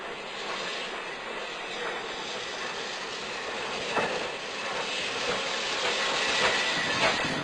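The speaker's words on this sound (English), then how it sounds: "Here comes the South African Railroad." A rickety South African railway train from Cape Town to Simonstown rumbles steadily along the track, a continuous broad clatter that swells slightly toward the end, with no voices present.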